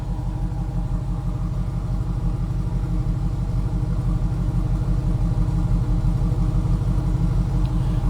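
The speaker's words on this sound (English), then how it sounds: "throaty little rumble." 2002 Chevrolet Camaro Z28 T-Top V8 idling with a throaty rumble, a steady, loud and close low pulsing burble that holds even throughout with no talking.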